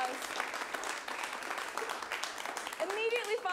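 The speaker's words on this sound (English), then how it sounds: "Let's give Casey a round of applause" Reunion-show audience applauding Casey Jones: a dense, fairly quiet patter of clapping that runs steadily throughout, with a voice starting to speak over it near the end.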